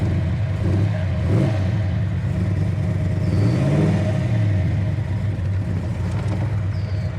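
A 1969 Chevrolet Chevelle SS 396 convertible's V8 idles with a deep, steady rumble through loud exhaust, its pitch rising and falling through a few throttle blips.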